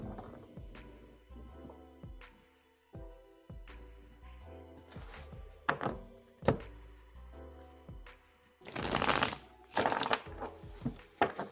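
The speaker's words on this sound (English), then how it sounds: "Paula, I am shuffling for you right now" Tarot cards are shuffled by hand in soft, irregular riffles and taps, building to louder bursts of card noise near the end, with no voice.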